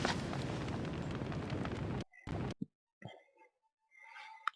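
Gunfire in the video game Koudelka: a loud, dense burst of shooting for about two seconds, then a few sharp isolated cracks and faint scattered game sounds.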